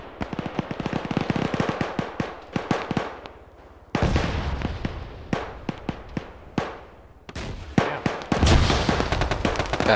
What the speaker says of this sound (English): Me firing an RPG over the heads.